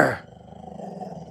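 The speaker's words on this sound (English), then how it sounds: "Can you growl?" A big dog growls during a tug-of-war game over a toy: a loud, rough opening snarl, then a lower, steady rumbling growl held close to the microphone, with no talking.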